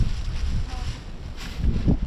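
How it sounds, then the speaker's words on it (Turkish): Soft wind buffeting a campsite with a pitched tent, low rumbling gusts that rise and fall with a faint background hiss. "Şu an hafif bir rüzgar var ama rahatsız etmez."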